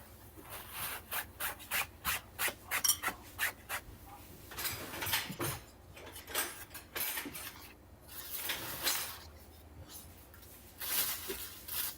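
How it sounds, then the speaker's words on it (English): Instant noodles get cut up in a container with repeated rhythmic scraping and rubbing strokes, a dense series of dry rasping bursts close to the mic, pausing briefly between runs. "I'm just cutting the noodles up a little bit so they mix better"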